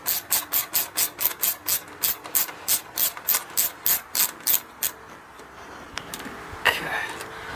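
A ratchet loosening a bolt on a 2003 Suzuki SV650 K3 motorcycle during spark plug work, a steady run of about fifteen crisp, evenly spaced clicks that stops about two-thirds through, leaving faint handling noise and a short scrape.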